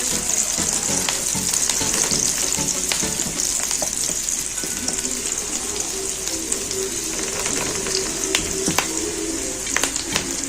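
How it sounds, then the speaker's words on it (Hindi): Chopped onions fry in a pan with a steady, loud, close sizzle and crackle, while a pigeon or dove coos softly in the background. "प्याज को हम अच्छे से फ्राई कर लेंगे।"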